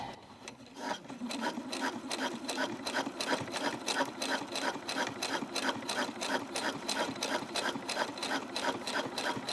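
A sewing machine stitching a denim jeans hem runs steadily and close, with fast regular needle thumps that stay even throughout after a brief start.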